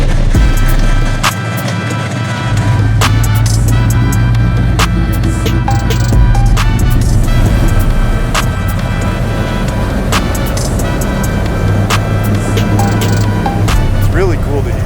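A big block luxury pre runner truck rumbles as it pulls away and drives, a loud continuous engine drone with shifting pitch, while people talk over it.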